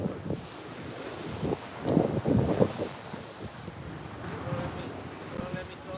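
Wind gusts buffet the microphone beside ocean waves at a jetty, rumbling surf swelling and receding in a loud surge midway, with voices murmuring faintly underneath.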